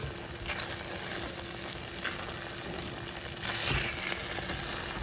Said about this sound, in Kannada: ತುಪ್ಪದಲ್ಲಿ ಹುರ್ಕೊಳ್ಳೋಣ ಇದನ್ನ ಗೋಡಂಬಿ ದ್ರಾಕ್ಷಿನ